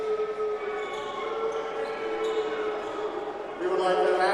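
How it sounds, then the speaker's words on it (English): Shrill whistling rises from the crowd at a men's college volleyball match in a gym. Sustained, wavering tones stack up over arena noise and a public-address voice, then get louder near the end. "We would like to ask the crowd to please refrain from any whistling noises."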